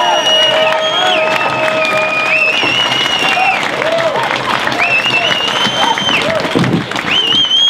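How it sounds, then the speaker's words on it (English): Loud crowd applause for a representative, with cheering and whoops mixed in, dense clapping filling the room throughout, high whistles and shouts rising above it several times. "A big round of applause, please, for DanDumaine."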